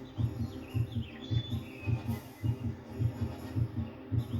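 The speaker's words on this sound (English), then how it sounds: "Why is my heart beating fast?" A PlayStation 1 video game's heartbeat effect thumps in a steady, fairly quick double-beat rhythm, about ten beats in the span, low and prominent, with faint game chirps and ambience above.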